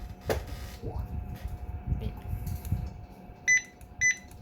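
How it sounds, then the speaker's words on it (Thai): A NITA 2000R wireless barcode scanner fires at a barcode, giving two short, bright electronic beeps near the end, about half a second apart, over low room noise with faint background sounds. "เทสยิงบาร์โค้ดได้เลยนะ ครับ อันนี้ ลองยิงเข้าน็อตแพดนะฮะ"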